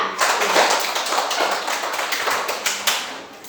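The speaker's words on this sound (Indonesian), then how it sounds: "Tepuk tangan kepada Atika." A primary school class claps for a classmate, a brisk burst of many hands that starts sharply, stays dense for a few seconds and then tapers off.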